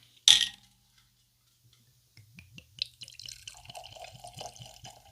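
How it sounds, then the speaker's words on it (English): A sharp crack as a bottle of Ballantine's blended whisky is opened, followed after a pause by soft trickling as the whisky is poured, close and fairly quiet. "Let's go ahead and get a crack and a pour."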